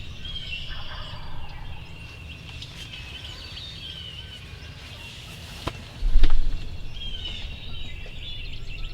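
Faint wild turkey gobbles sound in the distance across a creek over steady outdoor background noise, with a brief louder thump partway through, on opening day of Kentucky turkey season.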